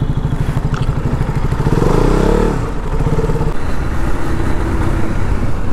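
Motorcycle engine idling close by, rising into a brief rev that swells and fades, then settling back to a steady, loud, rumbling idle, with no talking.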